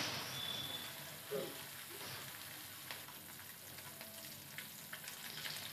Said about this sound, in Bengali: লবণ হলুদ মেখে মাছগুলো ভাজা বসিয়ে দিয়েছি।